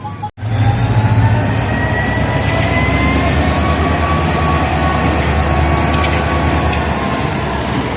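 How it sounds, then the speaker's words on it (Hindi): A train passes close by after rain, a loud continuous rumble and rattle of wheels and carriages that holds steady throughout after a brief abrupt start. "और मैं आई हूँ तो इस ट्रेन ने मुझे वेलकम किया है यहाँ पर"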